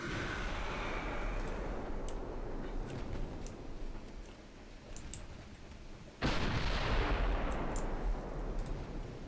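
Naval main guns fire in a Greek naval campaign video game against Soviet forces. A low rumbling battle backdrop with faint pops gives way to one sudden heavy blast that leaves a loud, sustained roar.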